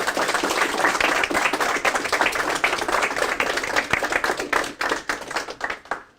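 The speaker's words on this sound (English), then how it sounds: "They're cheering and applauding." Meetup audience applauding, a dense, steady wash of many hands clapping close and loud throughout, thinning slightly toward the end with no talk over it.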